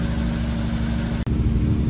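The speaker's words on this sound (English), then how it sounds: "idling much too high, but it's good to get it back running on the Webers" A 1968 Triumph TR250 engine fitted with triple Weber DCOE 40 carburetors idles too high, a steady, close, continuous hum with no talk.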